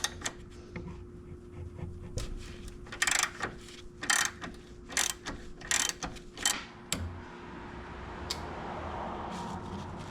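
Metal clicks and ratcheting as a pin and 19mm castle nut are removed from the top-side track bar mount of a Jeep XJ, sharp close taps in irregular bursts over a steady hum.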